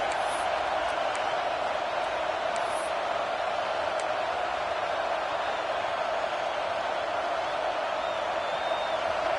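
Dense football stadium crowd during a college game, a steady roaring wash of cheering with a few distant whoops and whistles rising above it, continuous and far-spread with no talk.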